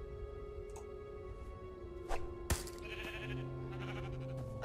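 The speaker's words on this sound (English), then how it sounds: "A sheep?" A sheep bleats in a video game, one wavering call standing out among soft musical tones, chimes and sharp clicks, faint and close, with no talking.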